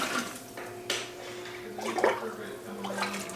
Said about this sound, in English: I'm gonna do 8 cups of broth into my big bowl